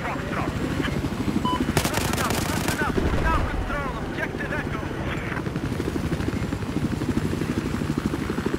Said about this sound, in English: shooting people from the chopper is fun.